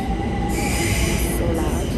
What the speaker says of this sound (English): Let me wait for the train to just,